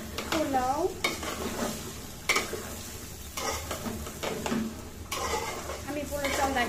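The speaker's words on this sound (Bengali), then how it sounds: "আমি পোলাও চালটা একদম ভালো করে তেলে ভাজা ভাজা করে নিই" Pulao rice frying in hot oil sizzles steadily while a spoon stirs and scrapes the pot in repeated strokes, with brief harmonic, voice-like sounds drifting in at moments.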